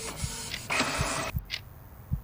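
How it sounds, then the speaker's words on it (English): An office printer starts up with a short whirring feed burst among faint mechanical clicks and thumps, heard fairly close but quiet. "his office printer activated."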